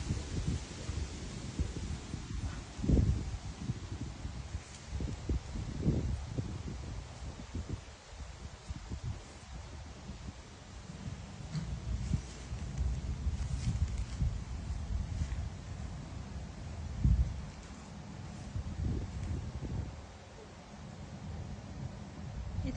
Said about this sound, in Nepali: यहाँ झन् धेरै हावा चलिरहेको छ